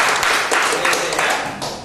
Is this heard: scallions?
no